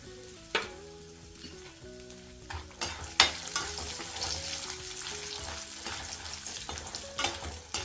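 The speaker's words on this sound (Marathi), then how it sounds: "पाऊनवाटी वाटी अक्रोड घेतलेत याचे पण तुकडे करून घेतलेले आहेत हलकेसे तळून घेते" Walnut pieces shallow-frying in oil for methi-dink dry fruit laddoos, a steady bubbling sizzle with a few sharp clinks of a spoon against the pan, moderately loud and close.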